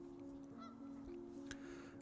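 Geese honk from a goose farm in the Anno 1800 video game, a few faint nasal calls over a steady tonal hum, quiet and somewhat distant.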